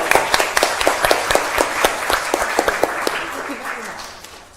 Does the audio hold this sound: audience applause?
yes